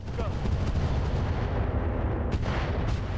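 Mech weapons firing all at once in RogueTech, a heavy rumbling barrage of booming cannon-like blasts with sharper cracks near the end, loud and sustained, with no talk.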